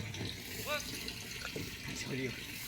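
Water rushes through a small stone-lined channel on a Konkan cashew farm, a steady near gurgling flow. Voices talk intermittently over it.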